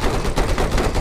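Loud, rapid bursts of gunfire crack out in close succession during a Type-99 tank battle in Battlefield 4. The dense volley runs through the whole second with no pause.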